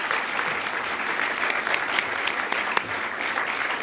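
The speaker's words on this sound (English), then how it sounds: "can I have a quick round of applause for them" A room full of guests at a university teaching awards event gives a quick, steady round of applause, dense even clapping with a few sharper individual claps standing out.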